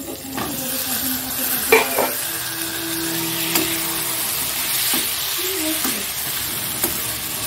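Potatoes stirred in a hot frying pan for an egg dish crackle and sizzle steadily, with scattered scrapes and clanks of the spoon against the pan, close and fairly loud, with no voices.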